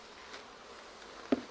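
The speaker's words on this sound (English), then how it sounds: "Busy bees." Honey bees at an opened beehive during a routine inspection, a faint, steady buzzing hum that continues throughout, with one short knock near the end.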